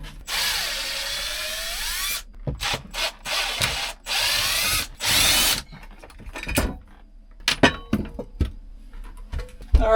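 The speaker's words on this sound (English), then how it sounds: "I got a nice really long Robertson bit on my drill, which is going to be able to reach these screws way back here." Cordless drill fitted with a long Robertson bit backing screws out of a camper van's drawer cabinet, a long whirring run followed by several short bursts, then scattered clicks and clunks of loosened parts.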